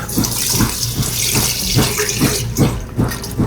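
One quart of half and half pours into a pot on the stove, making a loud, close, continuous liquid gush for about three seconds, with no voices.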